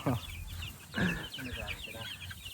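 Black Kelso chickens cluck and squawk close by in short bursts with brief gaps between calls, and faint talk or background voices may be mixed in.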